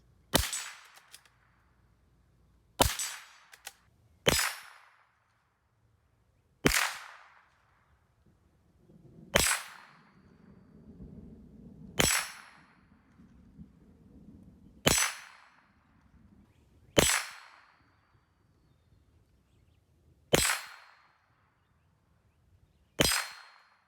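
A Ruger Precision Rimfire .22 LR rifle fired at a range: about ten sharp, cracking shots, spaced a few seconds apart and each ringing briefly, with quiet background between them.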